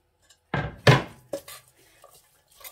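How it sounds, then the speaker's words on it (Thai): A utensil scrapes and clanks against a pot while chopped vegetables for spinach laab are stirred, giving a few distinct metallic knocks and scrapes close by, then quieter faint clinks. "คนให้เข้ากันก่อน"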